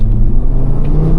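A 2014 Audi RSQ3 compact SUV with a 310 hp engine pulls hard, a loud steady low rumble heard from the cabin without talk.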